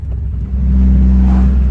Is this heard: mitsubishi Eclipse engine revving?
yes